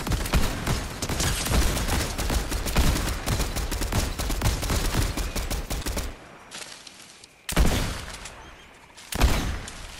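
Dense rapid gunfire from a video game fills the first six seconds as a continuous rattling fusillade, close and loud. Two short bursts of shots follow, separated by quieter gaps, with no talk.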